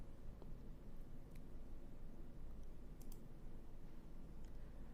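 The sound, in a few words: computer mouse clicking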